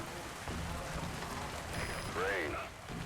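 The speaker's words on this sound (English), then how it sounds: "Sound of rainfall should help." Rain falling in the video game Metal Gear Solid V, a steady faint hiss of rainfall, with a short tonal in-game effect partway through.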